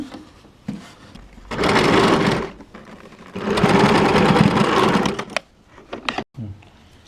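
Sewing machine stitching a baby frock runs in two long steady bursts of rapid whirring, close and loud, with short pauses and light handling noises between them.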